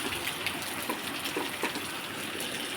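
Heavy rain downpour outside a house, water gushing and pouring in a continuous dense hiss with splashing, fairly close and steady, with no voices.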